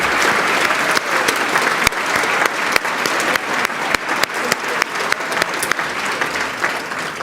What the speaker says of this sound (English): Let's have one more round of applause for the 2025 Greater West Bloomfield,